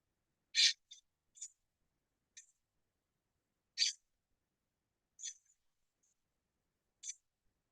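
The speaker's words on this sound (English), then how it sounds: "let me get its vocalization." California scrub jay calling in Santa Barbara County, several short, harsh, rasping notes spaced irregularly over a few seconds, isolated against near silence with no talk.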